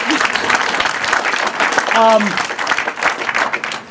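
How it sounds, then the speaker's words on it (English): A crowd breaks into applause, sustained clapping filling the clip with a brief tonal sound in the middle. "You can clap if you want."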